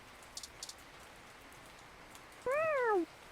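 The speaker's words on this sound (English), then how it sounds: "The kitty mews disinterestedly." A cat in 2064: Read Only Memories lets out a single short, rising-then-falling mew near the end. Before it come a few faint ticks over a quiet background.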